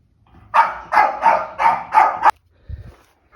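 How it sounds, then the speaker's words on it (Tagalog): Angry dog barking indoors in a loud rapid series of about six sharp barks, then a short low sound after it stops, close to the listener with no talk over it. "nagagalit na naman yung aso ko napakaingay"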